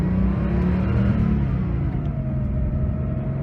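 A 1986 Porsche 930 Turbo Slantnose with a 3.3-litre turbocharged flat-six drives along, its engine a steady, close, heavy rumble with a low whirring drone and no voices.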